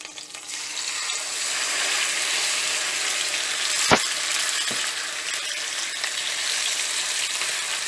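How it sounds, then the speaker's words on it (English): Marinated beef pieces fry in hot oil with a steady, close broadband sizzle throughout, broken by one sharp clatter near the middle and a faint knock just after. "When the oil is hot, you add the marinated beef pieces."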